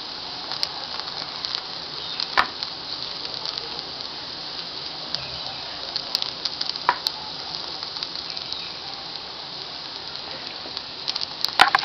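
Thalipeeth flatbread frying in plenty of oil in a pan, giving a steady soft sizzle with scattered small pops and crackles throughout, fairly quiet and continuous with no talking.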